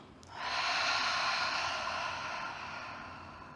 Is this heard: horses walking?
no